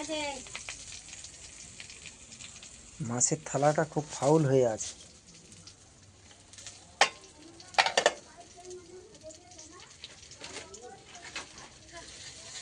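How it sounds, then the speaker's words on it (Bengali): Eggplant frying in a wok: a soft, steady sizzle sits low beneath a voice talking for most of the clip, with a few sharper clinks and bursts in between. "কড়াইতে এখন বেগুন ভাজা চলছে"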